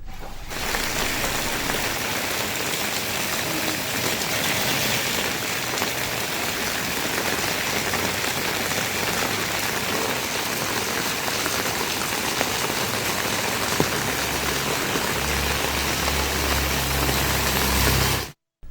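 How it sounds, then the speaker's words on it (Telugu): Heavy monsoon rain pours down steadily over Kakinada, a dense, continuous hiss of drops hitting surfaces close by, with a faint low rumble of a vehicle underneath and no voices. "కాకినాడలో జోరు వాన కురుస్తోంది."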